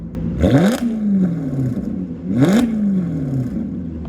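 A Maserati with an X-pipe exhaust blips its engine twice, each rev rising sharply then falling away in a loud, close roar with a whirring tail between bursts.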